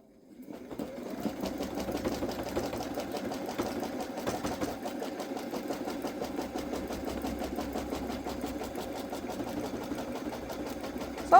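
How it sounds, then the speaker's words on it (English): A Babylock Solaris embroidery machine stitches an appliqué bow on a sweatshirt at slowed stitch speed, a steady rapid mechanical whir and needle rattle that starts up and runs continuously at moderate volume. "I'm going to start the stitching"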